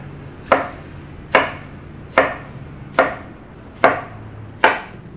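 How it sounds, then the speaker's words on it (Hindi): A knife chops zucchini on a board in six sharp, evenly spaced strikes about once every 0.8 seconds, close and clear with no talk. "इसके बाद हम इसकी कटाई कर लेंगे"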